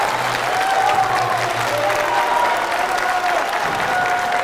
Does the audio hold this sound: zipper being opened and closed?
no